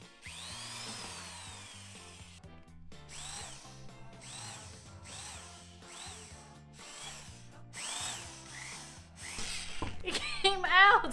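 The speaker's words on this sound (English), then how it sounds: "So instead, I'm gonna just drill at the top." A power drill bores holes into the top of an indoor worm compost bin in a series of short whirring bursts, with a voice speaking in between.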